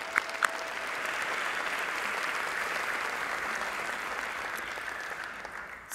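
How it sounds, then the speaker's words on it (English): Steady crowd applause at an August 2018 nurse pinning ceremony, a dense sustained wash of clapping from the audience that holds for several seconds before easing slightly at the end. "let's still give him a round of applause."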